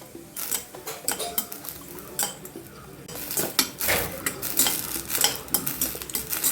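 Tender hurda sorghum grains roasting in a pan, light crackling mixed with scraping and clinking of a utensil being stirred against the pan, close and busy with no talking.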